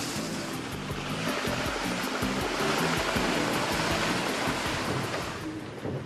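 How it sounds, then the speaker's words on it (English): Land Rover Discovery convoy fording a river during the Camel Trophy 1995 in the Maya region, heard as a steady, loud wash of rushing water with low engine rumble underneath, continuous throughout. "One at a time, following precisely in each other's wheel tracks, the convoy inched its way across the river."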